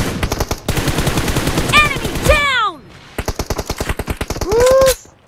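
Rapid automatic gunfire from a close-range shooting video game, loud dense bursts with short pauses, overlaid by whooshing in-game effects and sweeping tones.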